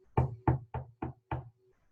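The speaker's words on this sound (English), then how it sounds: "she heard a knock at the door" Five firm knocks on a front door in a quiet house, evenly spaced at a steady rhythm, close and clear with nothing else sounding.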